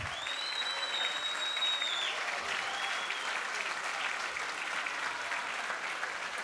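A crowd at a Lega Nord party festival in Umbria applauds a regional councillor with continuous, even clapping that holds at a moderate level throughout, a faint whistle rising briefly near the start.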